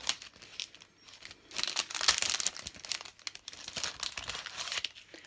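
A sheet of stickers crinkles and rustles as it is handled for a papercraft birthday card, with irregular crisp crumpling bursts close by and no talk.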